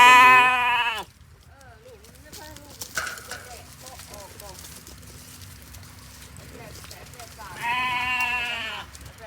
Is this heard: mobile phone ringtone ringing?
no